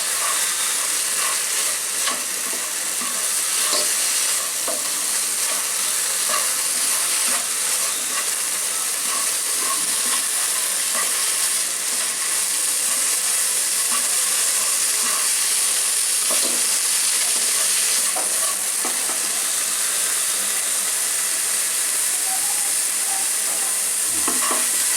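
A confectioner's chhana mixture for kancha chhana sweets being stirred and worked in a hot pan, a steady scraping and sizzling that runs continuously and fairly loud throughout, with no talking.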